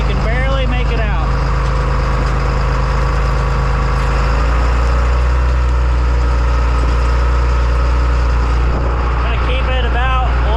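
A John Deere 8300 tractor engine idles at a steady low rumble, loud and close throughout, with a slight drop in pitch partway through and someone talking over it.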